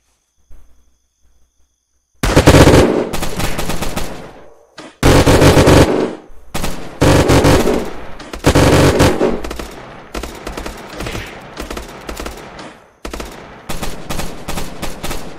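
Video game machine gun fire in bursts: after a near-silent opening, loud sustained automatic fire breaks out, stops and resumes several times, with shorter rattling volleys toward the end.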